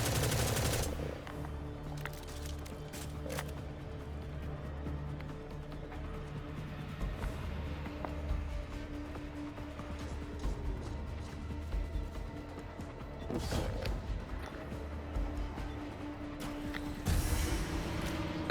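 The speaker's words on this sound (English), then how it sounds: "follow the sound of the bullets" Gunfire in the shooter Destiny 2, quick scattered shots and bursts over a low steady game ambience, moderately distant, with a louder flurry near the end.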